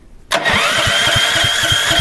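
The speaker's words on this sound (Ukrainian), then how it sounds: "вмикаємо батарею, пробуємо запускати" A Champion CPG9000E2-EU petrol generator cranked by its electric starter: a brief silence, then a loud, close, steady rhythmic chugging of the starter motor turning the engine over.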